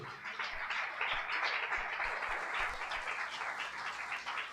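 A congregation at a Sunday church service breaks into sustained applause, a dense, even patter of many hands that holds steady without voices.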